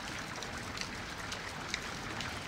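Hail pelts down like stones during a winter storm, a dense, steady patter of many small impacts that stays even throughout with no voices.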